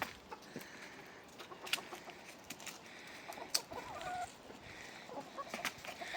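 Hens in a coop cluck in short, scattered bursts against a steady outdoor background, fairly faint, with a few sharper calls standing out.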